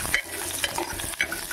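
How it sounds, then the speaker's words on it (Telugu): Jackfruit seeds frying in hot oil for a jackfruit seed curry, with a steady close sizzle broken by a few scraping stirs over about a second and a half, no voices. "పనస గింజలు ఒక 2 నిమిషాలు ఆయిల్లోనే ఫ్రై చేయాలన్నమాట."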